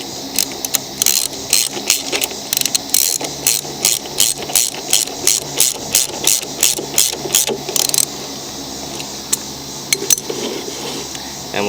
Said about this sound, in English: And we'll put the nut back on.